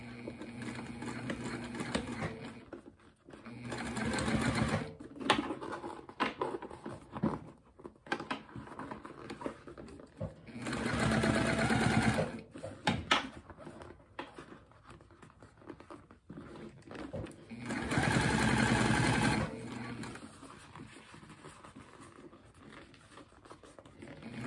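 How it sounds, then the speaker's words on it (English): A sewing machine stitches a seam on a cork two-tone retreat bag, running in several loud, steady bursts of a few seconds each, separated by quieter pauses with faint handling noise. "Open this seam and keep on stitching."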